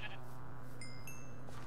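A Minecraft sheep bleats in short wavering cries over a steady game backdrop, the calls brief and moderately close.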